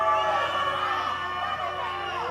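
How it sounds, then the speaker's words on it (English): Loud indoor wrestling crowd at an OVW television event, a dense sustained roar of cheering and shouting with high whoops that fills the arena without letting up. "The crowd is deafening in here tonight, guys."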